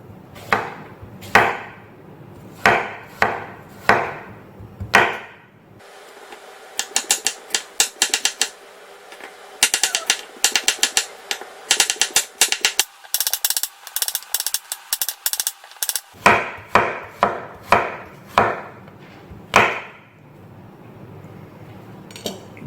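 Apple pieces chopped with a knife on a cutting board, a long run of crisp, rhythmic knife strikes, some in quick bursts and some in slower spaced chops, close and clear with no talking.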